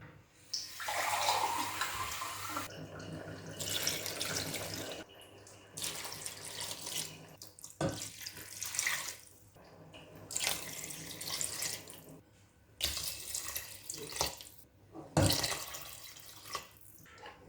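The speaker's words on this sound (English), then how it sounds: "I'm going to be measuring 6 cups of water. I'm going to be adding this to my beans." Six cups of water pour into a pot of honey beans in a kitchen, a steady splashing stream in several long bursts separated by brief pauses, fairly close and with no talking.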